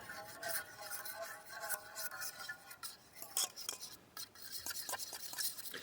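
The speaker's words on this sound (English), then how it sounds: "Just whisk that around." Tomato juice mixed with onion powder, cornstarch and black pepper is whisked briskly in a bowl, producing a continuous swishing rattle with sharp clinks of the whisk against the sides, close and fairly quiet.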